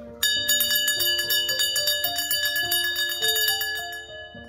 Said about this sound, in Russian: Звоню в колокол, и все, кто домочадцы,